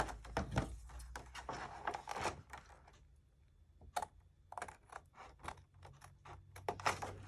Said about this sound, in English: So you're going to cut it about halfway.